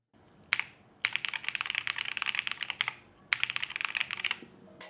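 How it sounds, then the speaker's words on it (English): Linear AKKO Cream Yellow mechanical switches typed in steady bursts, close and clear, with a soft, creamy clack to each keystroke and two short pauses between runs of keys. "So these are linear switches with a very creamy sound, as the name suggests."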